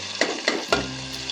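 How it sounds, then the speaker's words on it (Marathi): Finely chopped onion fries in oil in a pan, a steady close sizzle broken by three sharp scraping stirs in quick succession. "कांदा चांगला असा लालसर तळून घ्यायचा."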